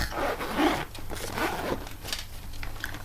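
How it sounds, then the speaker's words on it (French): A zipper is pulled open on a carrying case holding 80 alcohol markers, a close, scratchy rasp in a few uneven strokes with faint handling noise after. "on peut l'ouvrir à l'aide d'une fermeture éclair"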